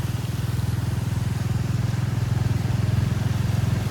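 A Royal Enfield Meteor motorcycle cruises along a road in rainy weather, its single-cylinder engine thumping in a steady, even rhythm, close and continuous with no speech.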